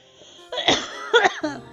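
A quick sneeze bursts out near the mic after a faint intake of breath, followed by a second smaller burst and a short trailing sound.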